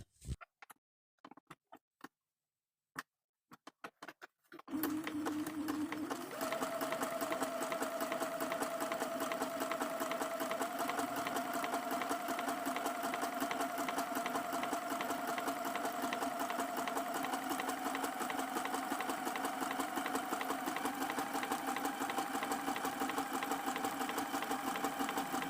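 A sewing machine runs a satin stitch around an applique on a pillow cover, first with a few scattered clicks, then a steady, close, continuous whirring drone that lasts about twenty seconds.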